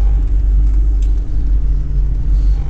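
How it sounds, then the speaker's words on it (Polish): A car's dual-mass flywheel rattles with the engine idling in neutral and the clutch released, heard as a loud, steady low rumble with a dense, fast terkot-like clatter running through it unbroken from start to finish. "A przy puszczonym sprzęgle na wyrzuconym biegu"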